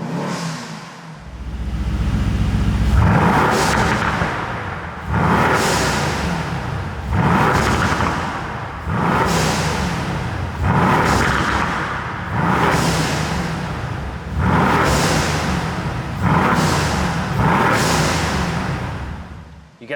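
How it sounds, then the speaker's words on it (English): Brabus 600-tuned Mercedes C63S facelift in race mode, revved repeatedly in a steady series of loud, close bursts with crackling pops and bangs and blow-off valve hiss between each rev. "you get some pops and bangs, you get the blow-off valve, it's all a little bit louder, a little bit crisper"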